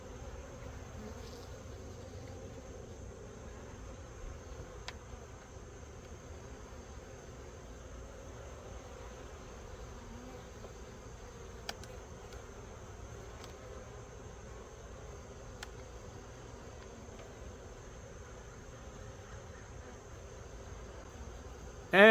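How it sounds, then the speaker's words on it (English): Honeybees buzz steadily around an open hive on an overcast day in South New Jersey, with smoke in use over the frames; a soft, continuous drone with occasional faint clicks, no voices. "So the smoke is trying to keep the bees in check"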